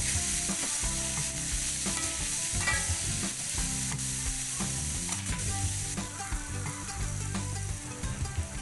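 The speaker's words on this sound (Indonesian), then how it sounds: "Aduk dan masak sebentar hingga sayurannya layu." Vegetables for Javanese fried noodles (mie goreng jawa) are stir-fried in a pan, giving a loud continuous sizzle layered with repeated scraping and clattering of a spatula stirring throughout.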